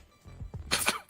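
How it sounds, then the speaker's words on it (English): A single person's sneeze, an abrupt loud burst after a short intake of breath, heard up close in a quiet indoor room with no talking. "Did you sneeze?"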